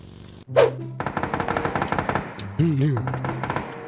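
Automatic gunfire in the PUBG battle royale video game, a rapid burst of loud close shots in quick succession, with game sounds and voices layered over it.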